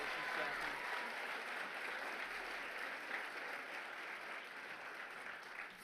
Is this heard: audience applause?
yes